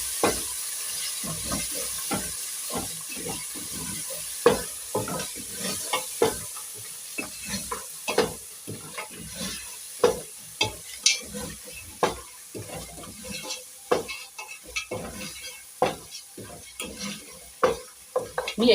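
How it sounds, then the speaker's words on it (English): Spices for pilau fry and sizzle in a pot while a spoon stirs them in steady scraping strokes, close and fairly loud, with a continuous hiss underneath. "I'll add 1 tablespoon and let us stir."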